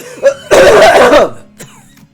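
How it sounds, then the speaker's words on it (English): A video game character coughs harshly, one short burst followed by a longer rough coughing fit, then a faint trailing breath, heard close and alone. "was coughing harshly between every couple of words"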